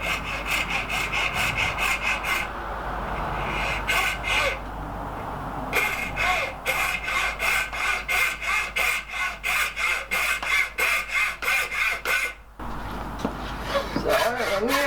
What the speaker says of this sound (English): so I'm going to use a hacksaw because you want a reasonably thin kerf